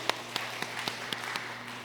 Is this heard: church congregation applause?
yes